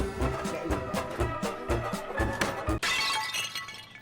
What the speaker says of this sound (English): that sounds like someone's broken a chamber pot